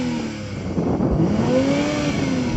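A nearby Toyota GR Supra sports car engine idles and then revs up, the pitch rising smoothly over a steady rumble, with no talking.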